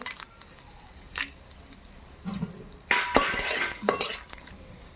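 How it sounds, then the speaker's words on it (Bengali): Whole spices, bay leaves and dried red chillies drop into hot mustard oil in a pan for a beef chap, with crackling sizzles and clinks of a utensil against cookware. "এখানে নিয়েছি তেজপাতা, শুকনো লঙ্কা, গোটা গরম মশলা দিয়ে দেব।"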